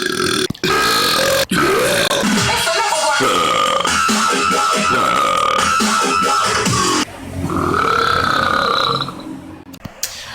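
People take turns in a burping contest, letting out long, loud, drawn-out belches that rise and fall in pitch, one after another with brief pauses between them, close to the listener.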